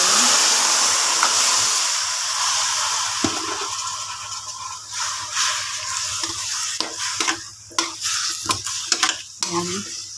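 Marinated pork chop hitting caramelized white sugar in a hot pan, a loud steady sizzle that fades slightly as it is stirred, with scraping and clinks of a utensil against the pan toward the end.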